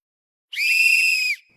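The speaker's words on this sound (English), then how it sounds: "Coaches and teachers can use a whistle to get our attention." A whistle is blown in one steady, shrill blast lasting under a second, loud and close, with nothing else around it.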